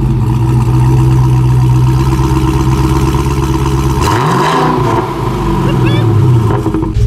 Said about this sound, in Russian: выхлоп регулируется заслонкой, он очень громкий, причем громкий даже просто на холостых